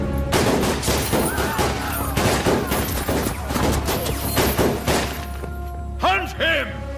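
Soldiers' gunfire in a Hindi-dubbed Indian period action film, rapid loud volleys of shots and thuds packed together, followed by shouting voices and cries as the firing eases.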